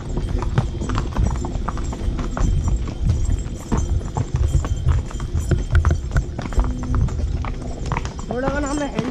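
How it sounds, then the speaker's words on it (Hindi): A horse's hooves clip-clop steadily on a road near Nainital, Uttarakhand, close and continuous with a brief whinny near the end, as people talk over the top. "घोड़ा का नाम है हैंडसम"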